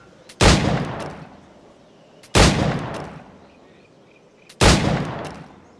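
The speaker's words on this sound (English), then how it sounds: "now that it's a challenge, you have to slow down and reload between every shot" Three separate loud gunshots from the video game Assassin's Creed Black Flag fire at targets, evenly spaced about two seconds apart, each a sharp crack with a decaying tail and quiet gaps between.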